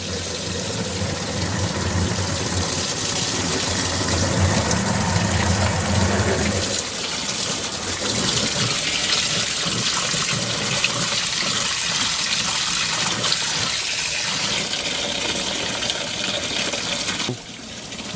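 Water from a hose gushes into a Costway portable washing machine, a loud steady rushing fill that eases to a lighter splashing trickle partway through and carries on to the end without speech.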